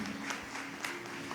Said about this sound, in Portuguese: Vamos então receber com uma salva de palmas, com bastante alegria, esse grupo bonito